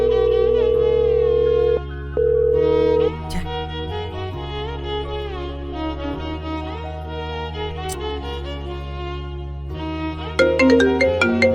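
A mobile phone ringtone plays loudly and close for over ten seconds as a repeating electronic melody, with one brief gap. The call goes unanswered.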